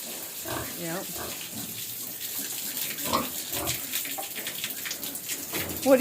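Water running and splashing from a sow watering system in a pig pen, a steady hiss throughout with pig grunts and a person speaking over it.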